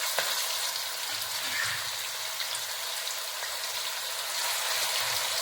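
Fish frying in coconut oil for a Kerala fish pickle gives off a steady, dense sizzle that holds evenly throughout, close and fairly loud, with no talking.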